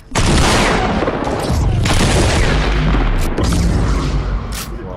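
Heavy weapon fire in a video game, a loud, dense barrage of booming shots and blasts that runs continuously and close up, with a voice speaking faintly underneath.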